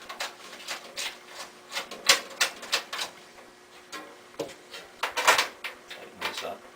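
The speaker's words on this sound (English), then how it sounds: "So what I'm going to go ahead and do is get these bolts going finger tight." Bolts being threaded finger-tight on the refrigeration system of a stack soda vending machine: a close, irregular series of small metallic clicks, scrapes and rubs in quick bursts, with brief pauses between them.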